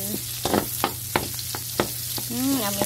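Garlic sautéing in a pan for ginisang upo, a steady sizzle broken by a handful of sharp scrapes and knocks as it is stirred, close, with a brief whining tone near the end.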